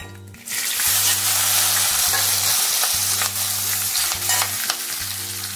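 Green chillies sizzling in hot oil with fennel powder and a pinch of asafoetida over a low flame, a loud steady crackling hiss that erupts at the start and continues, under a low repeating hum and occasional stirring scrapes.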